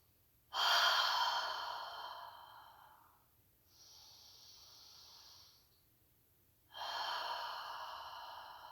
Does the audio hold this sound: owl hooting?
no